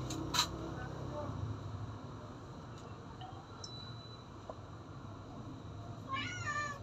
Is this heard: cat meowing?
yes